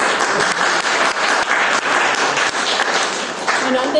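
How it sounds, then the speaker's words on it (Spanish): An audience applauds a speaker at a library poetry talk, with crisp, uneven hand claps forming a lively ripple and some voices mixed in underneath. "Un fuerte aplauso para ella."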